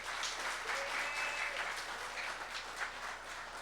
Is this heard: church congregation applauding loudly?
yes